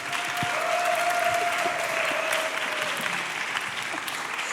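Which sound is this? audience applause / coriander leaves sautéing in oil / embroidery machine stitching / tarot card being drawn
audience applause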